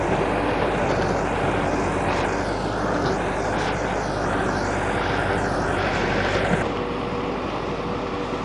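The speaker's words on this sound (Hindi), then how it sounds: "रोटावाटर चलता हुआ, रोटावाटर की परफॉर्मेंस दिखाई है" Massey Ferguson 385 tractor driving a 52-blade rotavator through a field in rural Punjab, a loud, steady engine drone with broadband churning noise that holds evenly throughout, dropping slightly in brightness near the end.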